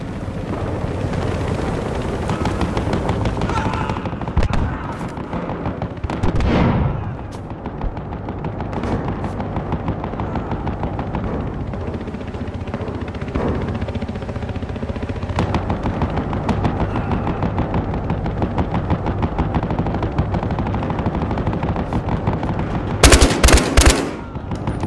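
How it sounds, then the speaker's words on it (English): Gunfire in the video game Battlefield Hardline, with sniper shots among the action: continuous machine-gun fire and explosions under a helicopter drone, a heavy boom near the start and sharp loud cracks near the end, with no talking. "Sniper fire!"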